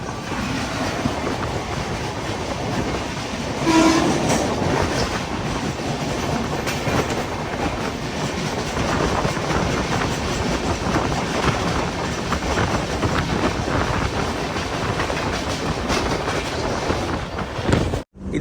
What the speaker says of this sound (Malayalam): ഒരു ട്രെയിൻ വരുന്നുണ്ട്